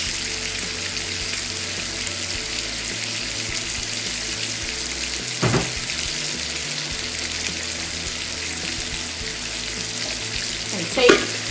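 Steak frying and being stirred in a pan gives a steady close sizzle with spatula scrapes, a brief clatter midway and a sharper clank near the end.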